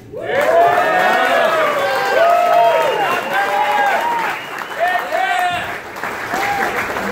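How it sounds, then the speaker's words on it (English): A crowd applauds at a boxing press conference for Golden Gloves champion Reshat Mati, a sustained wash of clapping and cheering with whoops and shouted voices rising over it, steady and fairly loud throughout. "Please, big round of applause for Reshat Mati"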